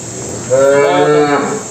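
A cow moos once, a loud, close, drawn-out low call lasting about a second over faint background hiss.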